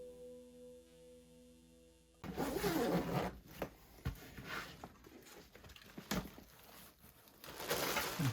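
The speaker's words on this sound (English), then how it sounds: "Zipper's not cooperating here." A zipper on a guitar pedalboard case is dragged in several rough, scratchy pulls, close and fairly loud, with short pauses between strokes.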